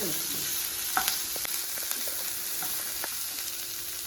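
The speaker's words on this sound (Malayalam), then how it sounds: "ഒരു സവാള കനം കുറച്ച് നീളത്തിൽ അരിഞ്ഞതായിരിക്കും അതും ആഡ് ചെയ്യാം ഈ ഒരു ഇളക്കി കൊടുക്കാം" Thinly sliced onion fries in a pan for a chicken varav, with a steady close sizzle throughout and scattered light scrapes and taps as it is stirred.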